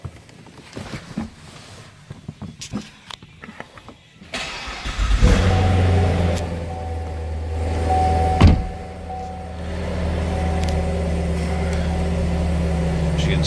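A 2016 Chevrolet Corvette Z51 coupe, 3LT trim, cranks and fires up after quiet handling noises, catching with a brief rev and then settling into a steady, loud, rumbling idle.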